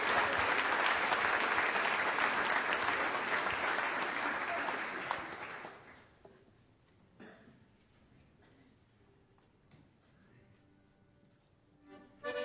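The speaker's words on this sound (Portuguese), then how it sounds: "palmas para o SIC Brado." Applause for the performers SIC Brado at a concert of traditional Madeiran string instruments, a steady crowd clapping that fades away after about six seconds into quiet room noise with a few faint sounds.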